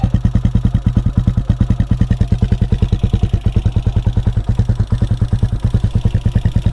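A CSC SG250 motorcycle fitted with a MotoCult performance exhaust idles with a deep, steady, rapid exhaust pulse, loud and close, its lumpy rhythm continuing evenly throughout.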